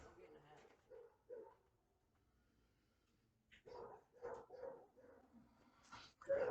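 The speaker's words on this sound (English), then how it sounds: "Dogs, get in the house right now." Dogs bark in a few short bursts outdoors at a house, faint at first and then louder in a cluster, mixed with a person's voice.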